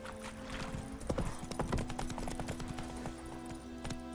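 Roach the horse gallops in The Witcher 3, a quick run of clip-clopping hooves with a brief whinny, set against a steady game ambience and music.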